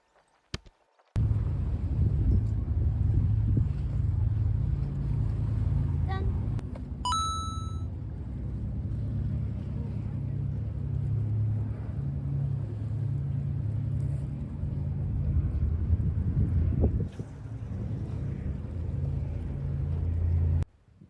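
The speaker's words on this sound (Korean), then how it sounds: "바람이 너무 많이 불어서 낚시할 맛이 안 나요." Strong wind buffets the microphone at a breakwater on a fishing trip, a continuous low roar that starts abruptly and holds steady, with a few faint metallic dings partway through.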